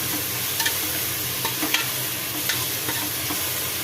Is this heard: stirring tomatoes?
yes